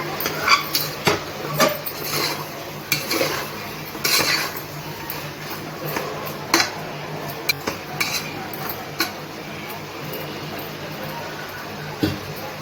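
A metal spoon stirs turmeric and spices for a big pot of sambar, scraping and clinking against the pot in irregular knocks over a steady low background.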